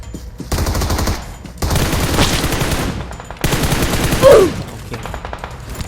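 Automatic UMP submachine gun fire in the battle royale game PUBG Mobile, three long rapid bursts of close, loud shots separated by brief pauses, with a faint trailing burst at the end.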